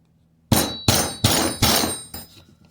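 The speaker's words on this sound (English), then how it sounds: "I'm going to get the hammer again here and drive that home" A hammer drives a firing pin into an SKS rifle bolt: five sharp, ringing metallic blows in an even rhythm, the last one softer, close and loud with quiet before the first strike.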